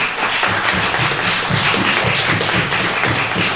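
Audience at an ecosocialist panel discussion applauds the panelists, a thick, steady wash of clapping held at a loud, even level throughout, close and without speech.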